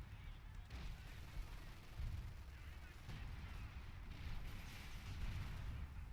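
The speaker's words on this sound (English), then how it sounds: "now I think they're moving into the fire of the mortars, of the artillery, the British artillery" Distant British artillery and mortar fire in a WWII strategy game set around Colombelles during the Battle for Caen, a low rumbling barrage of dull booms, faint and continuous beneath quiet voices.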